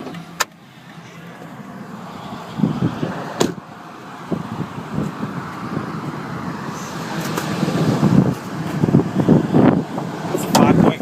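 A 2002 Ford Expedition XLT's 5.4-liter Triton V8 with 190,000 miles idling, a low steady rumble that slowly swells, mixed with wind buffeting, an occasional click and someone speaking.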